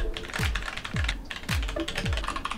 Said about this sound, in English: my old Logitech keyboard is a mechanical keyboard